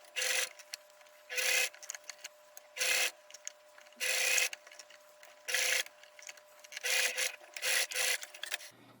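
A sewing machine stitches a narrow zigzag hem in a run of short, even bursts, about nine in all, each a second or less, separated by brief pauses and heard fairly softly up close.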